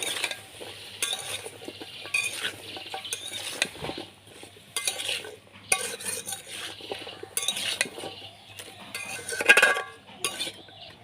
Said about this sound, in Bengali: অল্প হলুদের গুঁড়া, অল্প মরিচের গুঁড়া, সব একসাথে ভালোভাবে মিশিয়ে নেব।